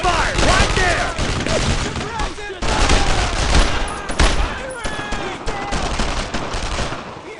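Dense gunfire in the Brothers in Arms: Road to Hill 30 battle, rapid overlapping rifle and machine-gun bursts close and loud, with shouting voices mixed in.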